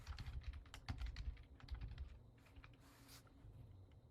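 A computer keyboard being typed on, keys tapped in a quick irregular burst of close, crisp clicks that slows to fewer strokes toward the end, with no voices.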